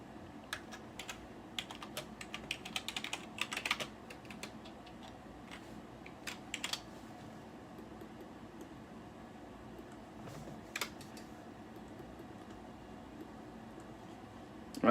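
Typing on a computer keyboard, quick irregular bursts of close key clicks in a quiet room, fading to sparse taps later.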